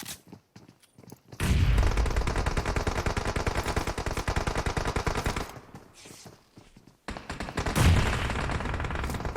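Rapid automatic gunfire from a PUBG Mobile battle royale match, long sustained bursts that break off briefly and then resume, loud and up front with no talk over it.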